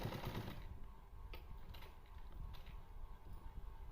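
A sewing machine runs steadily, stitching pleats on a salwar; a dense, continuous mechanical whir fills the clip with a brighter burst at the start and a few faint clicks along the way.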